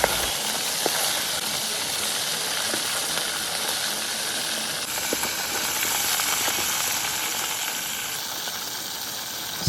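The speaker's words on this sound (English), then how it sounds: "This is already seasoned fish, and I'm going to be frying it in palm oil." Seasoned fish frying in palm oil, a constant bright sizzling hiss with scattered pops, close and steady throughout.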